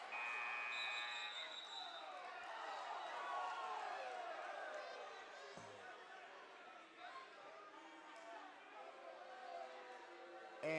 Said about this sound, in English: And inadvertent buzzer there.